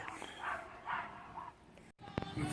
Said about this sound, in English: and a yappy dog.